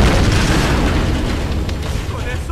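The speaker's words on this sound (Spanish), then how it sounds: "vamos a moverlo a base de explosiones." Explosions in the video game Tomb Raider Definitive Edition, a loud, close, sustained blast rumble with crackling debris that eases slightly toward the end, with a voice faintly under it.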